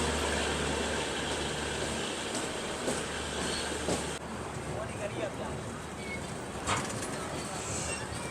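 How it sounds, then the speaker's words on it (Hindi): The Goa Express rolls past at Bina Junction station with a loud, continuous rumble and clatter of rail cars close by, and a voice speaks faintly beneath it. "और बीना जंक्शन पे ये कोई ट्रेन आ रही है बगल से"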